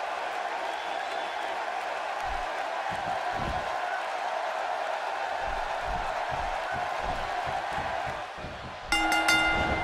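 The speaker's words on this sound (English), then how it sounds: "Wow, this amazing crowd is in for one hell of a match." A large arena crowd in the WWE 2K16 wrestling video game roars and cheers steadily at moderate loudness, with a brief brighter ringing tone near the end.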